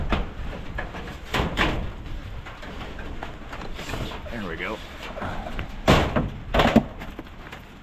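A metal pole knocks and scrapes against the inside of an outdoor wood boiler to loosen creosote, giving several loud hollow thunks and bangs, while someone talks briefly.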